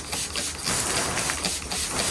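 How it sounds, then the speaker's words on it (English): A spray bottle mists plants to kill aphids, giving a close, loud, continuous hissing spray with slight pulsing as the bottle is rotated around the plant. "We're going to spray it again."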